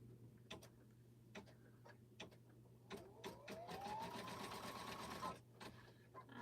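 An embroidery machine stitching a name badge makes quick repeated needle ticks and a rising motor whir, fairly faint and close, with a low steady hum underneath and a short pause before it resumes.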